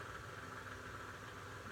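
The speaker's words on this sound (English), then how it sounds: "That's a little fan." A small electric fan hums steadily and faintly in the background of a room, an even, unbroken whir with no other sounds.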